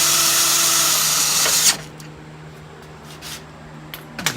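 Power tool whirring steadily at close range while driving a screw into factory torque mount bolts during a K Series EGK2 mount install, then stopping abruptly, followed by a few faint clicks and taps.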